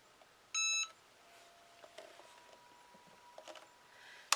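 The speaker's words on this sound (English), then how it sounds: "once this beeps, it tells me to turn the bag over and iron it again" A single electronic beep from an iron or heat press sounds briefly and clearly, followed by quiet room noise and a few faint clicks.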